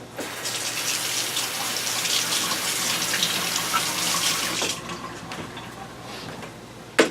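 A kitchen tap runs steadily as espresso equipment is rinsed under it, a continuous close hiss of water for several seconds that thins out near the end before a brief clunk.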